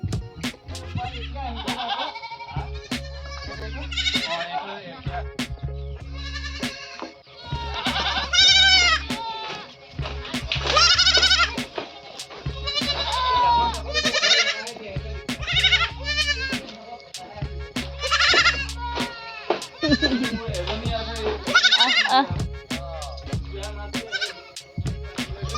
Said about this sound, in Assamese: এইটো হৈছে ছাগলী গঁৰাল।